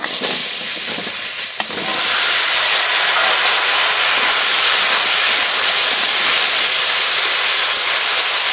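Potatoes and ridge gourd with ground coriander and cumin hit a hot pan of oil tempered with whole cumin, giving a loud, dense, steady sizzle and hiss that runs unbroken throughout without talk.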